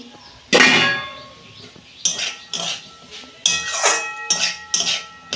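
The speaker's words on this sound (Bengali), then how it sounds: "আমি ঢাকনা খুলছি" A metal lid comes off a cooking pot holding banana stem, giving a loud opening clang and then a run of sharp metallic clinks and rattles as it is handled nearby.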